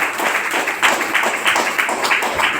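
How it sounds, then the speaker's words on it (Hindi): Enthusiastic audience clapping at a motivational seminar in Mandi Gobindgarh, a dense continuous patter of many hands throughout, fairly loud and close, with no talking over it. "जोरदार तालियां सर के लिए"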